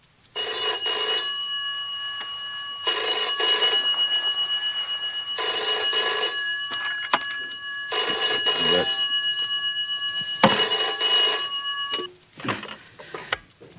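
A telephone rings after a number is dialed, its bright bell pattern repeating in four long bursts with short pauses between, clear and fairly close, ending in a click as the call is picked up.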